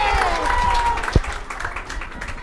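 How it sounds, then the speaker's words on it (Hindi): Crowd applause at a political rally for the Azad Kashmir elections, a dense continuous wash of clapping and cheering from a large audience, with voices mixed through it. "सब लोग तालियां बजाकर, हाथ उठाकर बताएं"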